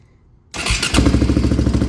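Polaris 450 Outlaw ATV engine firing up after a moment of near silence, catching abruptly and settling into a loud, steady running rumble close by.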